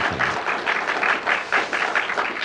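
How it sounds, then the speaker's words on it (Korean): Worshippers at a Wednesday service in Saebit Church clap together in a quick, rhythmic unison beat, steady pulses of many hands repeating evenly and fairly loud, with a brief dip midway. "박수 한번 주시고"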